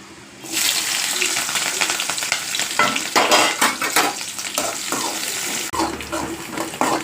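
Garlic and green chilies fry in hot oil with mustard seeds, a loud continuous sizzle with sharp crackles and stirring scrapes, shifting briefly toward a watery hiss near the end.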